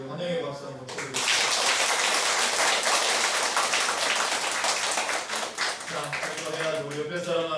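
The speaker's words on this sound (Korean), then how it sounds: "우리 환영의 박수 한번 쳐드리겠습니다" A Korean church congregation claps in welcome during a Sunday worship service, starting abruptly after a spoken introduction and holding steady, with talk before and near the end.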